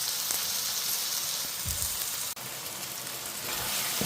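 Onions sautéing in a pan for butter chicken give a continuous, dense sizzle of frying, broken by a few low stirring bumps and one brief sharp drop partway through.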